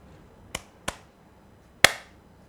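Three sharp hand claps close to a microphone, two in quick succession and a louder third after a pause, each a crisp broadband crack over near silence with a short decay.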